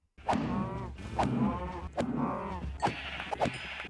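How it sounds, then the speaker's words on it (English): Sheep bleat repeatedly in a survival video game, several short wavering calls in quick succession, fairly close and loud, with no talk over them. "as you can already hear behind me, the sheep and cows have gotten their own little place"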